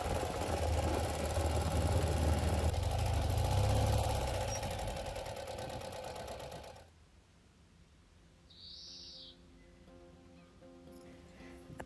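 Motorbike engine drone with rushing wind noise while riding on rural roads, loud at first, then dropping abruptly to a quieter hum with faint, scattered higher tones.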